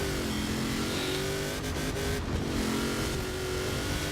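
A lifted Titan off-road truck on big tires in Forza Horizon 4, its engine roaring loud and close with steady revving throughout, a few brief tire or impact noises in the middle and no talk.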